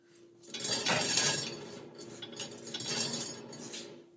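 Stuffed naan bread starts cooking in a hot pan, a steady close sizzle with light scraping and clattering of metal cookware rising and falling.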